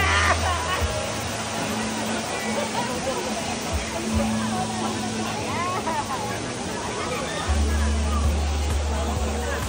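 Bolinao Falls pours in a constant broad roar of rushing water at close range, with people chatting over it and a low hum in the background.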